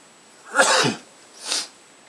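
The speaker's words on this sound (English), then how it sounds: "That was me sneezing." A single loud, close sneeze bursts out, followed a moment later by a softer breathy exhale; quiet room otherwise.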